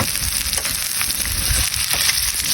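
Chilies sizzling in a hot pan as they are stirred, a dense crackling hiss with soft scraping strokes of the spoon rising and falling, close and loud without any talking.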